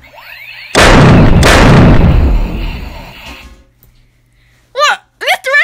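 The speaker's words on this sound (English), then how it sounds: "step away because there's going to be an explosion" A loud explosion sound effect booms suddenly, a heavy burst with a rumbling decay lasting a couple of seconds, followed by high voices talking.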